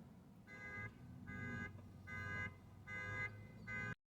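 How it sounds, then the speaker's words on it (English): A car alarm blares in repeated bursts, five harsh pulsing blasts with short gaps, fairly close, cutting off abruptly at the end. "There was a car alarm blaring."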